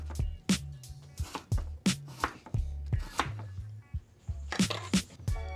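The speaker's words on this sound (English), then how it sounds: "Chopping the potatoes." A knife chops potatoes on a cutting board, a steady run of close, sharp chopping thuds with short pauses between bursts.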